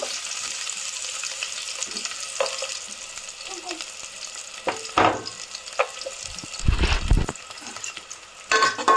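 Onions fry in hot oil with whole garam masala for a chicken fry piece biryani, giving a steady close sizzle. Scraping stirs and a few louder clanks break it up near the end.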